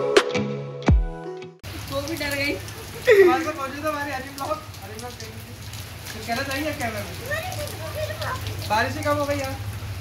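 Rain falls steadily in Karachi, a continuous patter that follows a brief opening burst of other sound, with a voice speaking over it in the middle of the stretch.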